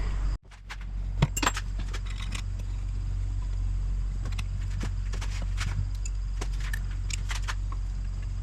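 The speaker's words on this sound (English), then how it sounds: "We're going to use our valve spring compressor tool to pull those out of there." Valve spring compressor tool compressing the valve springs on a Polaris 570 engine head that burns oil, giving a run of sharp metallic clicks, scrapes and jangling taps close by over a steady low hum, with no talking.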